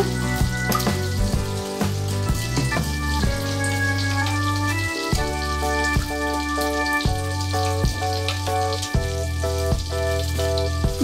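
Bay leaves and a dried chili fry in hot oil with a steady, hissing sizzle, partly masked by tuneful background music that plays throughout.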